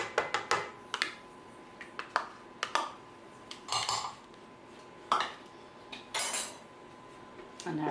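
Sour cream being added to flour, egg and sugar in a mixing bowl for a raspberry coconut crumble, heard as a series of close clinks and scrapes of a utensil against the bowl.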